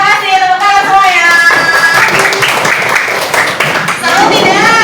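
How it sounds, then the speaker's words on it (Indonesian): A class of schoolchildren claps their hands together, a burst of mixed clapping in the middle surrounded by lively young voices calling out. "terima kasih tepuk tangan semuanya"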